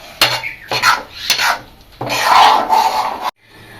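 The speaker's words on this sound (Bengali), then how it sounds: "ভালো করে নেড়ে নেব।" A spoon scrapes around a pot of payesh rice pudding in several rough, rasping strokes, one long sweep at the end before stopping, loud and close.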